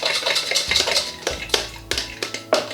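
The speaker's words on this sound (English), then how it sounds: "So a good stir." Jackfruit fajita sauce stirred in a pan with a utensil, making a run of clattering scrapes and knocks against the metal at an irregular rhythm, close and fairly loud with no talking.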